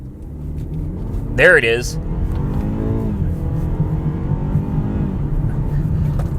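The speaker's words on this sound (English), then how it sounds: "you'll be able to more accurately hear what the engine is doing and when the revs kick in" A car at a dealer auction revs hard under full acceleration, with a continuous low engine rumble and a brief rising, whining surge near the start. Someone speaks briefly over it.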